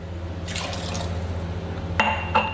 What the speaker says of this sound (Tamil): இந்த பால் பாத்திரத்தையும் கொஞ்சமாக தண்ணி ஊற்றி அலசிக்க போகிறோம்.